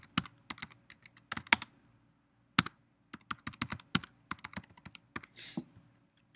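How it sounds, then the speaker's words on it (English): Typing on a computer keyboard while filling in a Google Form, with quick bursts of close, crisp key clicks separated by short pauses in a quiet room. "You can also simply type your questions in and your responses."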